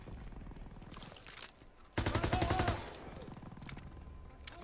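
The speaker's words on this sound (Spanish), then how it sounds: "Las ametralladoras acribillan la playa." Machine guns raking a beach in Call of Duty WW2, rapid rhythmic bursts of fire with a louder, denser volley in the middle amid battle noise, and a voice briefly over it.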